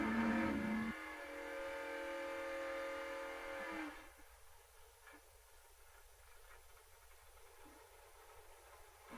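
Camaro race cars at a memorial race event, an engine roaring loud and rising in pitch before dropping away sharply, leaving a fainter distant drone.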